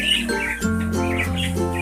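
Pet pigeons in a loft give close, loud squawking calls in short repeated bursts, nasal and harsh, with brief pauses between them.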